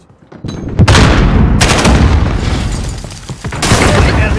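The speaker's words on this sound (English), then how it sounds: "Grenade out!" Loud grenade blast followed by sustained rapid gunfire and booming in Call of Duty: Modern Warfare multiplayer, a dense close battle din with repeated explosions and automatic shots, with brief voice callouts beneath.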